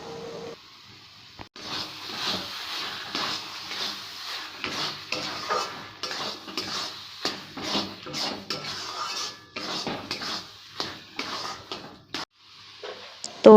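A spoon scrapes and clinks around a pan as cardamom pods are stirred for carrot halwa, giving a steady run of close, uneven metallic scrapes and taps, with no talk.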